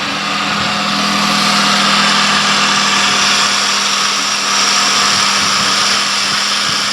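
Hyundai Genesis 2.0T R Spec engine running steadily with worn idler pulleys, a loud continuous hum with high-pitched whine and whirring throughout, no talk.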